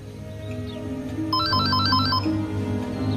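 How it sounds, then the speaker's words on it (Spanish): A telephone rings indoors with a short electronic ringtone burst of repeating chirped tones. It rises over a low background hum and fades after about a second. "Sassy, el teléfono."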